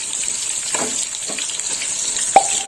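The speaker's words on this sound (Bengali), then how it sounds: "এবার এই তেলে আমি আলুটাও ভেজে নেব" Potatoes frying in hot oil for a vegetarian stalk chachchari give a steady, close sizzle, broken by a few soft clinks and scrapes and one sharp spatula tap near the end.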